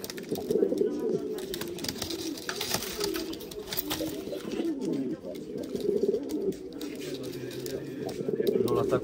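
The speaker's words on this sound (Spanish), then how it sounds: "El palomo la embiste, pero no la engancha." Pigeons in a loft as a male charges at a female, giving a steady stream of close, throaty cooing and rumbling that runs through the whole stretch, with a voice talking over it at times.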